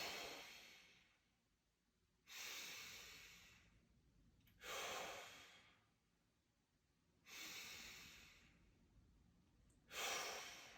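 Slow, deep breaths drawn in through the nose and let out through the mouth, four long exhalations spaced evenly with quiet pauses between, close and soft in a calm exercise setting.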